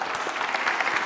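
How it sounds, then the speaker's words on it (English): Brief burst of audience applause for the organizing team at a tech conference, a dense, steady patter of clapping from a hall full of attendees. "can we have a huge round of applause for the organizing team?"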